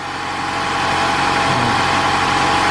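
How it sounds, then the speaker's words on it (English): A Honda Accord engine idles slightly high under repair for an EGR insufficient-flow fault, a steady close-up hum with broad mechanical noise and no talking. "Car's still idling a little bit high."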